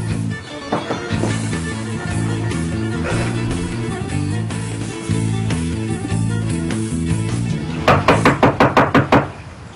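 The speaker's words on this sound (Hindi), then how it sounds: "10 मिनट से खटखटा रहा हूं, दरवाजा नहीं खोल रही हो।" Knocking on a door comes as a rapid series of sharp raps near the end, close and loud, after several seconds of dramatic background music.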